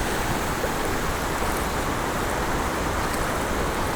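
Rushing water pours forcefully at Tirparappu falls, a dense, continuous roar that stays loud and even throughout, with no voices.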